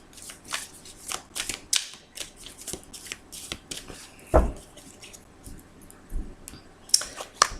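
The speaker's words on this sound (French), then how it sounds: "je vais procéder donc à la coupe pour ce samedi et dimanche" A tarot deck is cut and shuffled by hand, with quick papery riffles and flicks and the soft slap of cards coming together in an uneven rhythm, close and fairly quiet.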